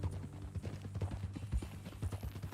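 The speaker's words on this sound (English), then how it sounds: "That a new horse?" Horse hooves clip-clopping in the Red Dead Redemption 2 video game, a steady run of close, fairly loud hoofbeats over a low hum, with no talking.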